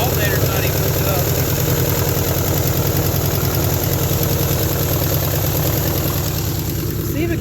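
A 1972 Chevrolet Nova barn find, started after 35 years of sitting, runs with a loud, continuous, rough rumble close by, holding a steady idle throughout.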